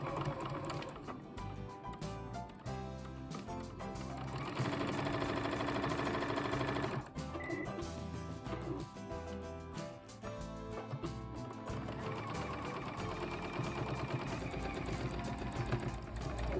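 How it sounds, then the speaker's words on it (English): A sewing machine runs a tack down stitch on quilted fabric for an ice cream cozy, a close, rapid mechanical chatter in several runs with brief pauses, and no voices. "Now on this stitch, you may want to go ahead and do a tack down stitch."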